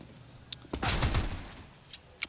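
M4 rifle shots in CS:GO during a DreamHack Open Austin 2017 match, a burst of fairly quiet gunfire cracks over about half a second, then a couple of isolated distant shots, with no voices.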